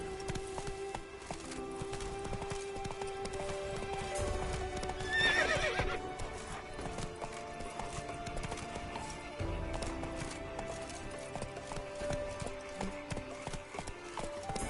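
Roach the horse galloping in The Witcher, rapid rhythmic hoofbeats clip-clopping close and continuous, with a loud whinny cutting in midway.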